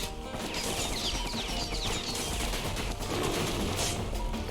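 Rapid weapon fire from the action game Bastion, a dense, continuous barrage of shots layered over game music and effects, loud and sustained throughout.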